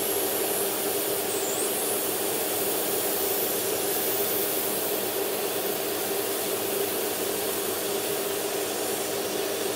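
Vallejo primer sprays steadily through an airbrush in a continuous, even hiss of air and atomised paint, close and loud, with no breaks and no voices.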